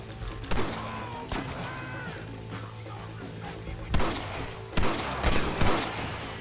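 Gunfights in Red Dead Redemption crack out as scattered loud shots, a few early and a denser volley near the end, with faint game voices and ambience between them.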